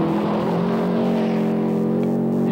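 A 1989 Audi 200 Quattro rally car races past with a steady, loud engine drone that holds a constant pitch throughout, with no voices.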